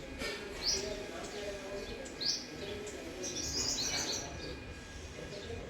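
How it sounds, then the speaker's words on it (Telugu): A flock of small birds chirps noisily in a tree, with repeated bright tweets and short calls in bursts over a quiet outdoor background, fairly faint and at a moderate distance. "చెట్టు పిట్టలు అట్లాంటి ఇంకా మన చెట్టు మీదకి ఇంకా ఎక్కువ వచ్చినట్టున్నాయి బాగా అల్లరేస్తున్నాయి"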